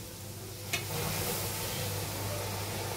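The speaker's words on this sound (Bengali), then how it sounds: "এখন হলো আমি চিকেনগুলো দিয়ে দিব" Chicken popcorn pieces dropped into hot oil for deep-frying hiss into a sudden, steady sizzle after a brief click, close and fairly quiet, continuing evenly with no one speaking.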